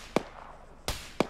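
Three sharp gunshots ring out in a video game, one single crack followed by a pause and then two more shots in quick succession, moderately distant.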